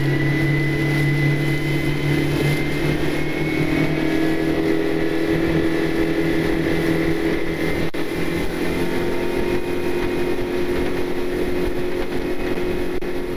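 A steady motor drone with low engine hum runs throughout, loud and continuous, a boat motoring along the Delaware River at night, with no talk.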